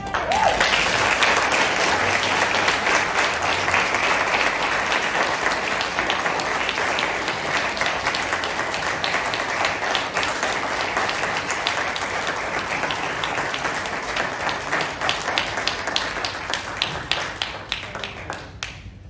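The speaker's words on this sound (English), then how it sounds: "Thank you for the standing applause at the back" An audience gives a long standing ovation at a workplace presentation honouring fifty years of service, with dense, sustained clapping from many hands that thins slightly toward the end and faint voices beneath it.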